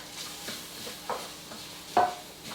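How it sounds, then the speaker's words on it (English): Grated garlic sizzles quietly in a pan while being stirred, with a low steady hiss broken by a few sharper scraping strokes. "add your 3 cloves of grated garlic. And cook that around for just another minute"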